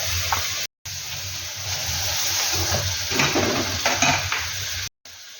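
Marinated mutton goes into a hot kadai for a special mutton curry, giving a continuous close sizzle with occasional utensil clinks and stirring scrapes, broken by two brief silent cuts.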